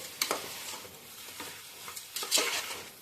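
Rice grains scraped and stirred in a hot pot for Tirupati kushka, a few soft scratchy strokes with a light sizzle underneath, fairly quiet and close with no talking.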